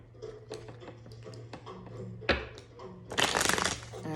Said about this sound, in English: So now we're gonna shuffle the cards and get into this reading.